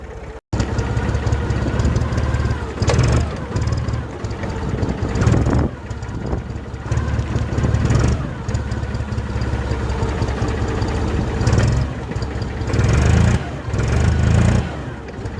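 An IFA W50 truck diesel engine, taken out and fired up, runs at a steady rough idle with some revving swells, loud and close, with no talk over it.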